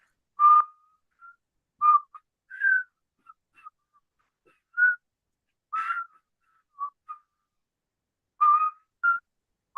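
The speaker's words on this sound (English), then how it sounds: "Who can tell me what song I'm whistling?" A person whistles a tune alone, short clear melodic phrases with pauses between them, close and fairly loud, with no other sound behind.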